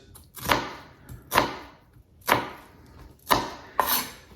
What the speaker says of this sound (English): We're gonna chop this onion into pieces sort of like this, but a little smaller.